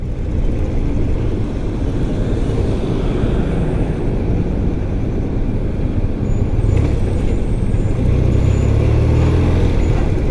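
Heavy industrial traffic with trucks rolls past a rider on a 1993 BMW R100GS motorcycle, a loud, constant low roar of engines and road noise that never lets up.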